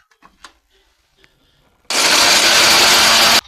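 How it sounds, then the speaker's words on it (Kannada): Mixer grinder dry-grinding grated coconut without water, starting abruptly after a few faint kitchen clicks and running loud and steady for about a second and a half before cutting off. "ಹಾಗೆ ಡ್ರೈ ಆಗಿ ಮಿಕ್ಸಿ ಮಾಡ್ಕೊತಾ ಇದ್ದೀವಿ"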